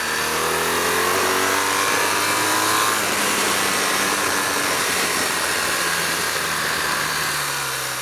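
BMW R1200GS motorcycle engine revving while downshifting into third gear, a loud, close mechanical roar whose pitch climbs and then falls steadily across several seconds under heavy wind rush.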